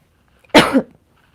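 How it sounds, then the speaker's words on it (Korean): One short, sharp cough close by, alone against near silence. "기침이 나네."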